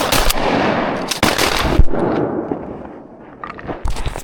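Shotgun blasts fired at diving ducks during a hunt on a frozen river, a rapid volley of loud, close sharp reports in the first seconds, then a trailing echo and a couple more shots near the end.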